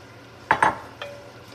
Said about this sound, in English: now you can add in the ground beef that we had setting to the side and mix it in